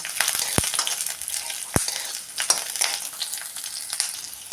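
Garlic and peanuts fry in a hot pan for a Maharashtrian kharda side dish, giving a steady close crackling sizzle with two sharp clicks of a utensil against the pan and no talk.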